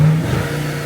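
A 4.2-litre V8 car engine revving, loud and close, in a brief steady mid-pitched roar with no voices.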